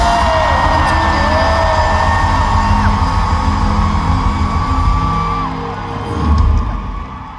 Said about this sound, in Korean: 준이 형에게 큰 박수 부탁드립니다